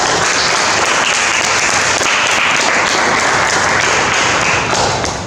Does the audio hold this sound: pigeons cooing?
no